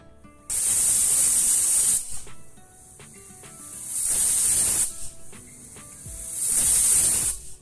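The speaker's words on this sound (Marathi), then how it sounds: "कुकरच्या 3 शिट्ट्या झालेल्या आहेत आणि कुकरची पूर्ण वाफ सुद्धा गेलेली आहे" Three loud, steady bursts of hissing steam from a pressure cooker cooking moong dal khichdi, each lasting a second or more, with quieter rattling and clinking between them.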